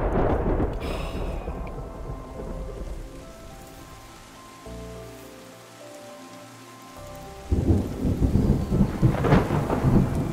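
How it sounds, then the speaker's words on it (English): A rolling thunderstorm in the video game Terra Nil: heavy rain pattering steadily with deep rumbling thunder that fades, goes quiet, then swells back in loudly. "Sound of the storm is one of the best things I've ever heard."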